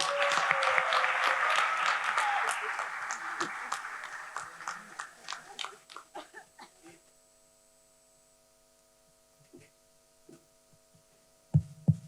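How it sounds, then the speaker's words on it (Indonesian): An audience claps loudly at a public forum in Semarang, a dense burst of applause that thins into scattered individual claps and fades to near quiet, then a few handling knocks. "kita kasih tepuk tangan dulu untuk Thomas, teman saya ya."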